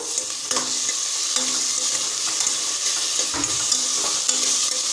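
Chopped tomato stirred into onions sautéing in a pan for a high-protein, high-fibre tiffin dish, with steady broadband sizzle and repeated soft scraping stir strokes, close and continuous.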